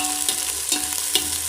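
Onions sautéing with mustard seeds and cumin in oil, a continuous close sizzle broken by three brief stirring scrapes at regular intervals, with no talking.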